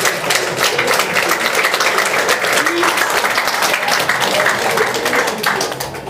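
A church congregation claps together at the close of a Portuguese-language prayer, steady dense applause filling the room throughout at close range, with a voice faintly underneath.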